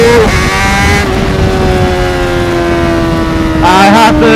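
A Honda CBR600RR sport bike on a fast twisty road, its engine wailing at high revs in a sustained loud tone, the pitch holding and then climbing sharply near the end, with wind rush underneath.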